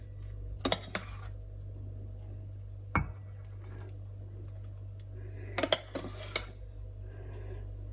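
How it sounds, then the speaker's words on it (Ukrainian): Soft clinks and taps of a ladle against a plate as strawberry soup is served, a few scattered knocks over a quiet low hum. "Все, зараз наш суп викладаємо у тарілку."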